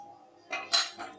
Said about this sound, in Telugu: ఇప్పుడు ఇవి మొత్తం మిక్స్ చేసేస్తాను.